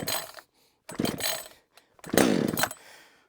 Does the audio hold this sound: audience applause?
no